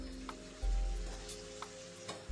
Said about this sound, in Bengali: মশলা কোচানো হয়ে গেছে, এখন আমি কাঁঠাল এঁচড়গুলো দিয়ে দেবো।